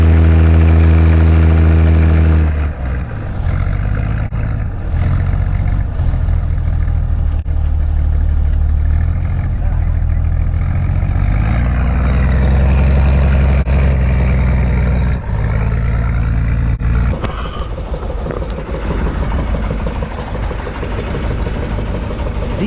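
A loud, steady fishing boat engine drones and idles throughout at sea while hauling a net, its low rumble shifting slightly in pitch, with a change in tone near the end.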